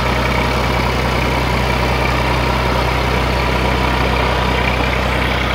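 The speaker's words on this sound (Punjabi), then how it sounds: "ਲਓ ਜੀ, ਸਟਾਰਟਿੰਗ ਦੀ ਆਵਾਜ਼ ਵੀ ਸੁਣ ਸਕਦੇ ਨੇ।" A 2002 Massey Ferguson 240 tractor engine idles steadily and loudly up close, a constant rough diesel rumble with no voices.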